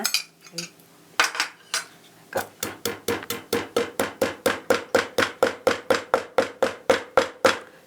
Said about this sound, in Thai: ดี๋ยวเราจะตำจากพวกเครื่องเทศก่อนนะคะ ที่อันที่ตำยากๆค่ะ ก็ลูกปักชีค่ะ